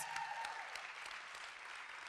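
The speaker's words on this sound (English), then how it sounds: "Yes, round of applause" An audience at a conference panel discussion applauds, a short, fairly faint burst of steady clapping heard alone.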